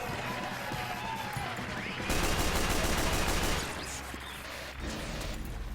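Rapid automatic gunfire from an engineer's mini sentry gun in Team Fortress 2 on the Swiftwater payload map, a dense burst that swells loud mid-clip over continuous game noise and explosions.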